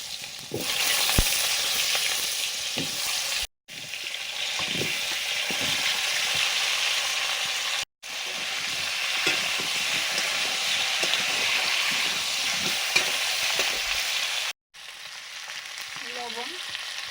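Potatoes and green banana frying in a pan with five-spice seasoning, a continuous loud sizzle broken by a few brief silences, with occasional stirring scrapes and knocks.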